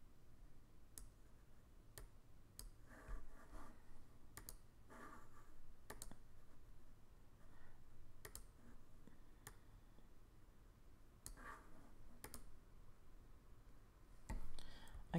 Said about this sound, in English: I can move it with the keyboard